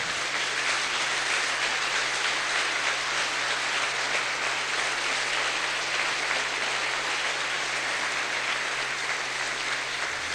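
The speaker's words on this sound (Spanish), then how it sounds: "Y te aplaudimos, Señor." A church congregation applauding during a Mass, a steady even wash of many hands clapping that carries on for several seconds with a low hum beneath, no voices over it.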